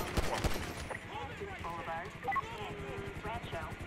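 Grand Theft Auto V gunfire: a couple of sharp shots up front, then faint scattered pops under a voice talking throughout.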